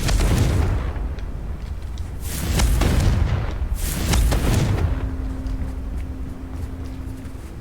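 Confringo blasting curse in a Harry Potter video game: a loud, deep explosive boom with a rumbling tail, followed by a second swelling burst and a fading hum.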